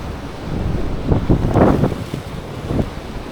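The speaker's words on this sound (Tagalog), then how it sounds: "Ang lakas ng agos dito pabalik guys." A strong current and waves rushing past at sea, heard as loud churning surges that swell and fade, mixed with heavy wind buffeting the microphone.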